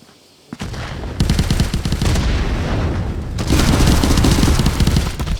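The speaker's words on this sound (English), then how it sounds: "Oh, and we got some gunfire going on between the boys" In the VR shooter Contractors, rapid automatic gunfire crackles almost nonstop in loud, dense bursts, with a short pause partway through before the shooting resumes.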